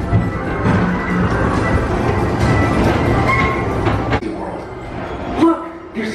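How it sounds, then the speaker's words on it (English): A people mover train at Magic Kingdom rolls along with a steady rumble and soft rattling of the cars, heard from inside, while a voice talks over it. "your express train keeps on rolling through the future"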